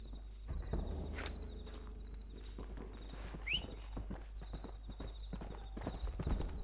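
Horse hooves clip-clop steadily in Red Dead Redemption, a continuous run of hoofbeats at moderate distance over a constant low rumble, with crickets chirping faintly in the background.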